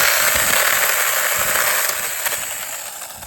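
A tietoc mini cordless chainsaw cutting through a tree branch, a loud, steady high-pitched motor whine close by that holds level and then eases slightly toward the end.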